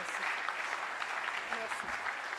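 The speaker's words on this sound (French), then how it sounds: "applaudissez notre panel qui a été formidable" Audience applause for a conference panel on African banks and agribusiness, a soft, steady patter of clapping in a hall, fairly faint and continuous over a couple of seconds.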